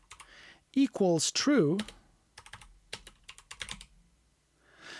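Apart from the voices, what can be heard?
typing on a computer keyboard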